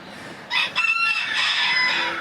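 A rooster crows loudly nearby, a drawn-out call over the clucking of village chickens and black Porcelain bantams, with no talking.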